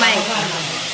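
A tempering of chillies and tomatoes hits hot oil in a pan, giving one loud, close, airy hiss that bursts at the start and stays steady through the brief moment.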